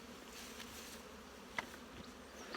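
Honey bees settling into nuc hives make a faint, steady buzzing hum close by, with a brief soft knock partway through and no voices.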